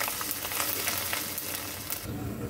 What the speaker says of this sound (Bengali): এরপর দিয়ে দেব গ্রেট করা আদাটাকে সুন্দর করে ভেজে নেব